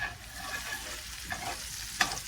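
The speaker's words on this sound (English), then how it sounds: "Stir the onions." Onions fry in a pot for stew while a spoon stirs them, a soft steady sizzle with faint scraping and a brief clink near the end.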